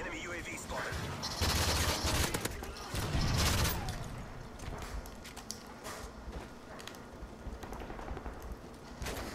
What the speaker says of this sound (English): Scary gun shooting at me